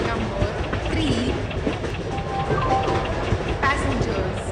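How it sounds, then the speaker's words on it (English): Indian passenger express train at a station platform, a steady rumbling rail noise with faint clicking wheels, under busy platform chatter and announcements. "12655 Garib Rath Superfast Express is arriving at platform number 3."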